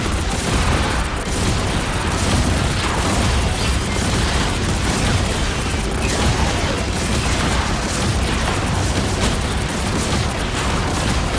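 Bomb explosions from the Marvel Rivals video game roar as a continuous, dense barrage of booms and bursts, loud and sustained throughout with no pause.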